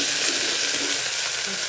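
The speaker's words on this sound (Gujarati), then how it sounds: "હવે આપણે મીઠા લીમડાના પાન નાખશું અને આદુ મરચાંની પેસ્ટ નાખશું" Curry leaves and ginger-chili paste hit hot oil for a tempering, a loud, dense, continuous sizzle that fills the brief moment.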